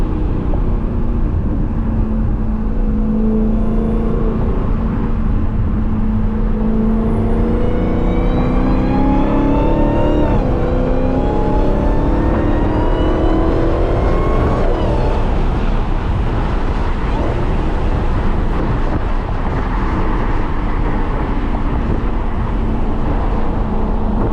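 A 640hp Dodge Charger SRT Hellcat engine on a night drive, loud and close, revving up through rising gear sweeps, then settling into a steady cruising drone.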